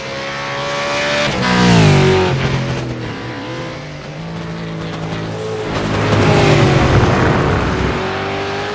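V8 Supercar engine on a flying lap in a racing game, a loud close roar rising through the gears, dropping on downshifts and revving up again, with brief tire noise and no talking.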